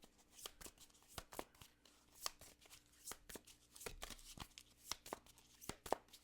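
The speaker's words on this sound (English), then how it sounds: "These are smaller so I can shuffle them long ways." A small deck of tarot cards is shuffled lengthwise by hand, a quiet, close run of crisp riffling snaps and flutters in irregular bursts, with no talking.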